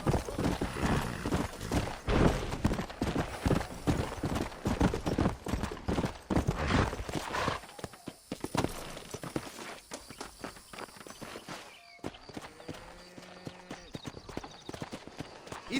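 Horse hooves clip-clop in a rapid, loud rhythm in the video game Red Dead Redemption, with a neigh among them, then slow to sparser steps with some background sounds later.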